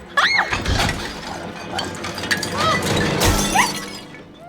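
Glass shatters loudly up close, a sharp crash followed by tinkling shards and high squealing scrapes, with a second burst of breaking glass near the end amid a busy indoor scene.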